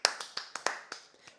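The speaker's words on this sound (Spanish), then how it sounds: "Un aplauso." Podcast hosts give a short round of applause on a studio recording, about eight quick, close, sharp hand claps in an uneven rhythm that grow softer toward the end.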